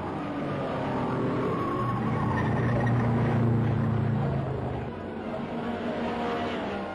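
Early-1950s racing cars, a Ferrari and a Maserati, roar through a race in a steady engine drone with droning pitch changes, loud and close, fading slightly near the end.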